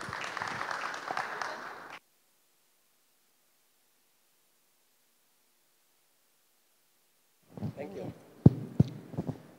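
An audience at an evening workshop gives a burst of applause to welcome a speaker. The clapping lasts about two seconds, then silence follows before a voice begins speaking.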